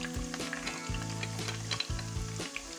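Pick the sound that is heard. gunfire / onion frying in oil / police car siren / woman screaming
onion frying in oil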